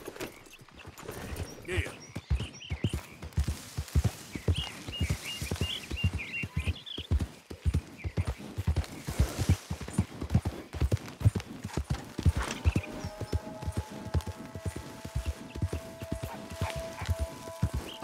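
Horse hooves in Red Dead Redemption 2 clop in an irregular trot, close and fairly loud, with a rider's voice and other game sounds mixed in partway through.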